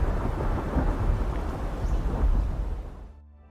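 Thunder from a lightning storm rolls as a loud, broad rumble with rain-like hiss, sustained for a few seconds before fading out.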